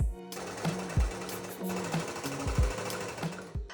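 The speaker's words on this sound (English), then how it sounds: "I'm gonna stitch 1 centimeter across the whole base." A sewing machine stitches across the base of a leopard print triangle tote bag, a loud close mechanical whirring in short bursts with brief pauses and thumps between runs.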